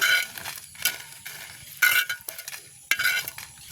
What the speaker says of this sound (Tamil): பார்த்தீங்கன்னா மிளகாய் வறுபட்டுட்டு நாங்கள் மிளகாய் எடுப்போம்.